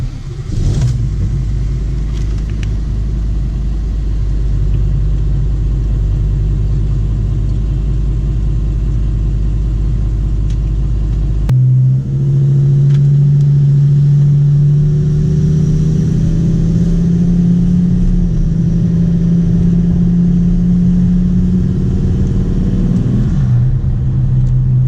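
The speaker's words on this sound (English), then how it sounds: "see if we can hear any more out of the engine, out of the turbos" A Volkswagen Touareg engine fitted with cone air filters drones loudly while driving, with turbo and intake noise, then climbs in pitch as the throttle opens and holds a rising, revving tone; no talk.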